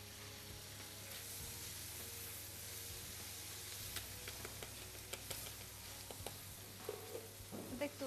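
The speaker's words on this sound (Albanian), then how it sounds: "Atë lugën e bardh të makaronave që të përzije pak makaronat." Spaghetti with pancetta and chicken prosciutto stirred in a pan with a white pasta spoon: a soft, steady sizzle with scattered scraping and clinking, quiet and close.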